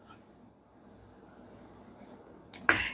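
Pencil scratching across paper in a steady soft rasp during a drawing lesson, close and quiet, ending with a brief louder stroke.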